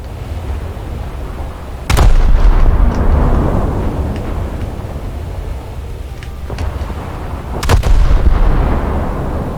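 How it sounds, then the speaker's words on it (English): Naval guns of a Japanese light cruiser, the IJN Suzuya, firing in the War Thunder video game: two loud, booming salvos several seconds apart over a steady engine rumble. "Take this guy out with the guns."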